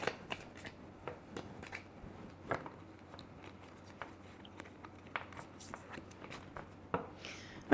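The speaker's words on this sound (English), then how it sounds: "Okay, let's get more cards out." Tarot cards being drawn and handled, soft papery flicks and taps arriving sporadically, close and quiet, with no talking over them.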